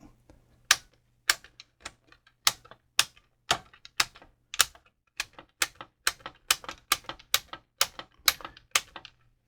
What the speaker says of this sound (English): I'm just going to click each switch